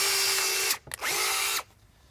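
Power drill pre-drilling pilot holes into wooden boards for a raised garden bed on a slope, two loud close bursts of whining spin with a brief gap between them, then it stops.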